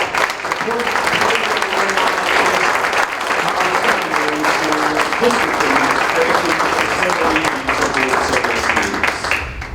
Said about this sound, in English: How about a big round of applause for those making up